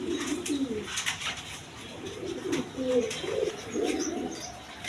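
A pair of yellow Lahori pigeons coo in low, repeated bursts at close range, with a few faint chirps from other birds in the background.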